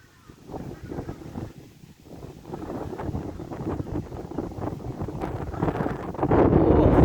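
Wind blowing outdoors in a quiet natural spot, steady broadband rushing gusts on the microphone that strengthen toward the end, with faint voices in the background.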